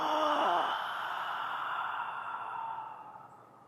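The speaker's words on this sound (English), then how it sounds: "start making the sound to let go of any worries, and it's this guttural sound" A single long, deep guttural vocal release, like a groaning sigh, trailing off slowly as the breath runs out.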